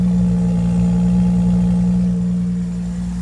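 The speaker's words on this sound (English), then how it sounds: "We'll go ahead and get the exhaust note." A 2015 BMW X3 xDrive35i SUV engine idles with a deep, steady exhaust burble and strong low hum, close and continuous, easing slightly quieter toward the end.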